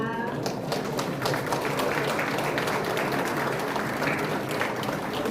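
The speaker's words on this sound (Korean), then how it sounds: "박수 한번 부탁드립니다." Audience applause for committee members at a provincial government report meeting, a steady wash of clapping from a large crowd, somewhat distant and held evenly, with faint voices beneath.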